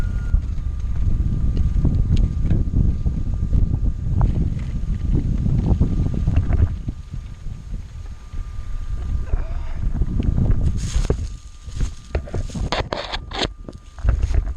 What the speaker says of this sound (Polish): słychać wiatr